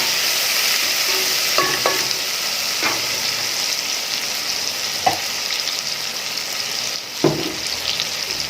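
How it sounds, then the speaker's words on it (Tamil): Sliced onions fry in hot oil in a pan for mutton biryani, giving a steady sizzle throughout. Occasional scraping clinks of a spoon stirring against the pan break in at intervals. "வெங்காயம் சேர்த்து நல்லா கிளறி விட்டுக்கலாம்."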